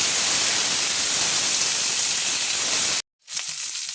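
Chopped flat beans and potatoes fry in a pan with a loud, steady sizzling hiss that cuts out abruptly near the end, then resumes more quietly.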